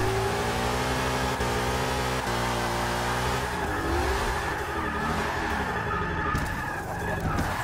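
A car engine revs continuously during a drift lap in Forza Motorsport 6, the pitch rising and falling with sustained tonal harmonics, loud and steady throughout with no gaps.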